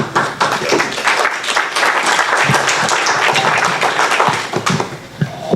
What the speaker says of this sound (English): And I clap for you.